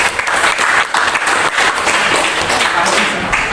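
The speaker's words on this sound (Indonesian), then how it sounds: "beri tepuk tangan untuk kita semua" A classroom of students applauds together, loud and dense, the clapping sustained throughout with a few voices mixed in.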